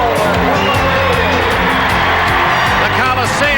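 A loud basketball crowd roars inside the Coliseum in Portland, Oregon, during a Lakers–Trail Blazers playoff game, a dense, constant swell of cheering and shouts with whistles and whoops cutting through, an announcer talking over it.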